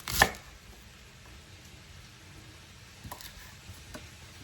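A knife slices through cabbage into thin slivers: one crisp, loud cut against the board, then a few faint, soft taps over quiet background.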